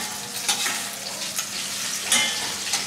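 Prawns fry and sizzle steadily in oil in a pan to make a seafood oil. A broad, close crackle runs throughout, with intermittent louder spits and the scrape of stirring.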